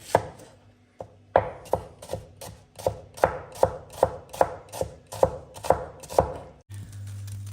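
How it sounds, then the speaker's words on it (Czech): Knife chopping an onion into half rings on a board, about a dozen crisp, evenly spaced cuts, close and clear, with no talk. "a teď tady mám cibulku, takže na taková půl kolečka, anebo jak se vám to povede"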